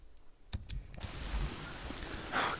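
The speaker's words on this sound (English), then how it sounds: "Oh, damn rain." Steady rain falling in the video game Days Gone, a broad continuous hiss that swells after a few sharp clicks near the start and stays fairly loud throughout, with no talk.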